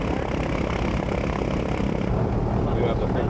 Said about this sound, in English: We start engines at exactly 4 p.m.,